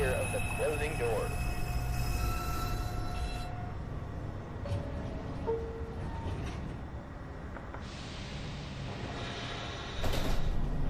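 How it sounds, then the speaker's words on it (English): An automated NYC subway train at 215th Street, serving the 1 and 2 lines, closes its doors with a steady mechanical rumble and a brief chime-like tone; a recorded announcement voice plays over the sound. "Stand clear of the closing doors."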